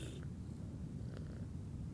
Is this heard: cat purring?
yes